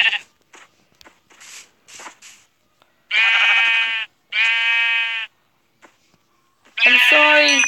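Sheep bleat in a video game, three long, loud, close bleats with gaps between them, mixed with sparse short clicks and game noises.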